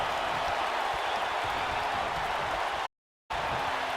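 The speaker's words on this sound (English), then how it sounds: "Crowd giving Goldman some support here" Steady crowd roar and cheering from a wrestling match in the video game WWE 2K19, a dense continuous wash of noise that cuts out briefly near the end before resuming.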